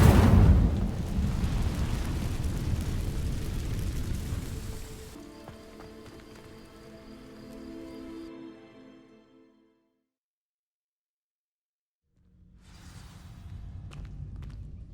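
Incendio fire spell cast in Hogwarts Legacy, a loud roaring burst of crackling flame for several seconds, then a quieter ringing magical tail that dies to silence before ambience returns.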